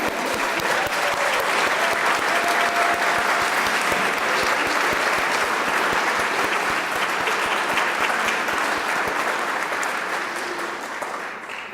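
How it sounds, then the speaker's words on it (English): Sustained, dense applause from a large audience at a white coat ceremony fills the room, loud and steady for about ten seconds before beginning to taper off at the end. "I think that deserves a round of applause."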